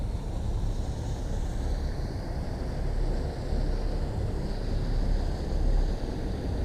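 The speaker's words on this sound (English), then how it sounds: "That's a big boat." A big boat passes on the Mississippi River, its low engine rumble and wash surging in a continuous roar mixed with heavy wind buffeting against the microphone.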